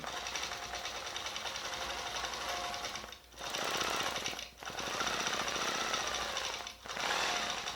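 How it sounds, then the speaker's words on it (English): A longarm quilting machine sews around the edge of a quilt, a loud rapid mechanical chatter running steadily with three brief pauses. "Fold it over, and we're going to sew around the perimeter again."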